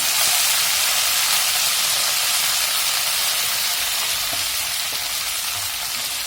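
Garlic and fenugreek leaves fry in a pan, giving a loud, steady sizzle and hiss that stays close and even throughout.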